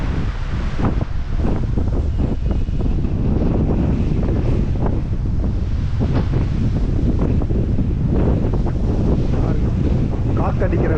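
Strong wind roars continuously against the microphone near water in Little Venice, Azerbaijan, with a dense steady buffeting rush and waves underneath, loud throughout the whole stretch.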